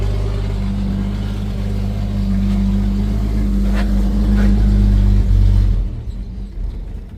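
A Ford XB Fairmont long abandoned on a farm runs with a steady, loud mid-pitched engine hum and rumble for several seconds, then cuts off and fades.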